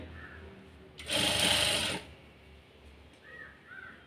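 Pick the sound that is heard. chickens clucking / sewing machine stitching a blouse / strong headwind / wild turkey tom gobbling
sewing machine stitching a blouse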